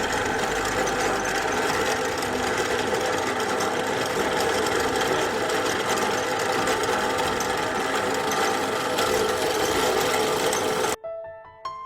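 A power drill runs steadily and loudly while cutting bud chips from sugarcane stalks, a continuous whirring grind that stops abruptly near the end, leaving a few faint clicks.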